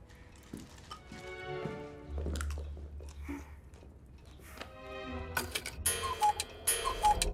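A cuckoo clock ticks steadily in a therapist's office, close and fairly clear, its even rhythm joined later by brighter chiming tones and other room sounds.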